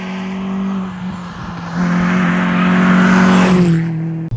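A Peugeot 206 GTI driving hard on a twisty, technical road, the engine humming steadily then swelling louder as it accelerates and revs before easing back, heard from close by.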